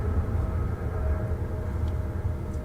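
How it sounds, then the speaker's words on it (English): Airplanes pass overhead as a steady low droning rumble with a faint whine, continuous and moderately loud throughout. "Thank you, airplanes, for interrupting me."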